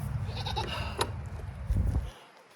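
A goat bleats on a farm, a few close, wavering calls at the start amid rustling and thumps of handling, then quiet.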